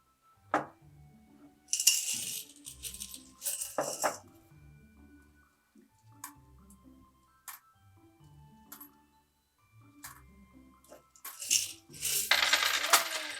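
Coins dropped one after another into a container hanging from a homemade spaghetti bridge during a load test: sharp metallic clinks arriving in short clustered bursts with quiet pauses between, no voices.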